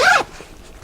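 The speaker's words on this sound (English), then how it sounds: "we've got a double zipper on the top that you can actually get into the bag right from the top" A double zipper on top of a Vanquest Envoy bag makes a quick, loud rasping pull, then a short pause before a second pull begins.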